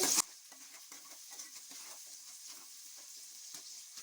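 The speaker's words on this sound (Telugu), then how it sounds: "మనకి ఉల్లిపాయలు తొందరగా వేగాలంటే కొద్దిగా సాల్ట్ వేసేసుకోవాలి" Onions with a spoonful of salt fry in a pan while being stirred, giving a soft, even sizzle broken by light scraping strokes after a brief louder burst at the start. No speech.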